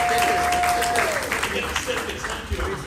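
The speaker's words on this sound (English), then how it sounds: "So a round of applause to everybody." Audience applause at a Blade Runner comics panel at San Diego Comic-Con, a steady wash of clapping held at a fairly even level throughout, with a sustained electronic tone early on and voices mixed into the crowd noise.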